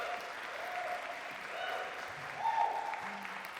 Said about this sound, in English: Let me get a clap.